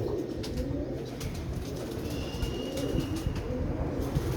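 A pigeon coos in low, soft, rolling calls that repeat through a steady rustly background of other birds, with no one talking.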